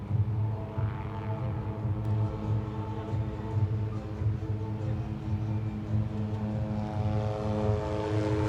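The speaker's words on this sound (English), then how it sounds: "the MD-530G is currently approaching the range to destroy the enemy on target number 3" An MD-530G military helicopter approaches a firing range during fire power training, a steady, droning rotor and engine hum that holds constant at middle distance, with no voices.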